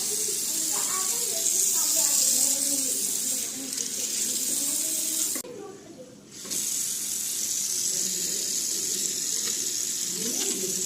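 Carysil water tap running steadily into a newly installed wash basin, a continuous splashing hiss broken by a short pause, with someone talking over it.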